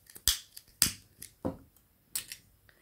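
Scissors snip through crochet thread in a few sharp, close clicks spaced across a couple of seconds, with quiet pauses between cuts.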